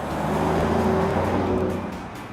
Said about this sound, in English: when you put that foot to the floor, it opens up wide and gives you the full exhaust note